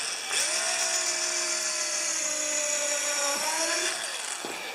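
A power drill bores a pilot hole for mounting a carpenter's vise, giving a loud, steady high whine for about three seconds with a slight pitch dip as the bit bites and then winds down.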